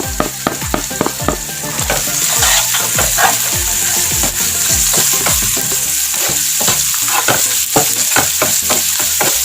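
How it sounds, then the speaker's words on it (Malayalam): Onions and turmeric frying in a pan for Andhra fish curry, a steady loud sizzle with repeated scraping stirs of a spoon against the pan, close and continuous with no talking. "ഈ മഞ്ഞപ്പൊടി ലേശം ഒന്ന് ഫ്രൈ ആവട്ടെ."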